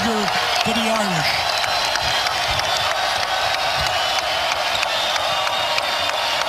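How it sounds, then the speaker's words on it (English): Crowd roaring steadily through a 2017 Notre Dame vs North Carolina college basketball game in a packed arena, a dense wall of cheering that never drops, with a commentator talking over it. "This crowd is alive, man. They have been all day since Jump Street."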